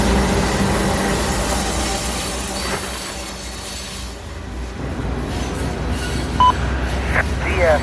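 A freight train hauled by a rebuilt CM44AC locomotive in YN3 paint rolls past close by, its wheels squealing loudly and continuously over a heavy rumble, with faint voice chatter in the background.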